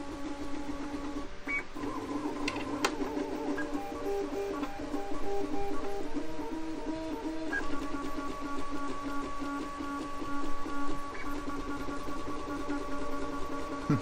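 A Voron Trident 3D printer running a sped-up ABS profile, continuous whirring stepper-motor tones that shift pitch with rapid movements, steady and close, no talking.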